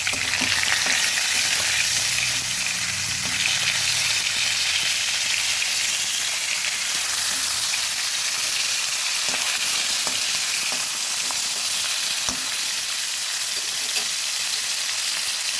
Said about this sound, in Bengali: উল্টে পাল্টে মাছগুলো ভেজে নেব